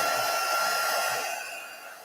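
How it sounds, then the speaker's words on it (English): A hair dryer blows steadily, drying glue on paper quilling, with a broad, airy roar that eases slightly toward the end; no voices. "I use my hairdryer to dry the glue a bit."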